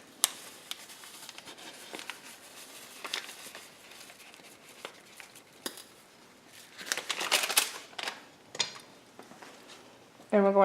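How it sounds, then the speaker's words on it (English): Scraping and light clattering of a spoon stirring browned beef, water and taco seasoning in a pan, irregular taps and rustles building louder toward the end, with brief sharper knocks. "we're going to stir that all together."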